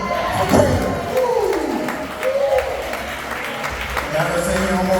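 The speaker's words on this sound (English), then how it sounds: "Can we clap it up for Brenda?" Audience applause rises after a call to clap for Brenda, a steady wash of clapping and crowd noise running the full five seconds beneath a talking or singing voice.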